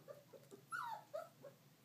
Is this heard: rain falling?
no